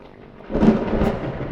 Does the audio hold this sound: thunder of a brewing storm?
yes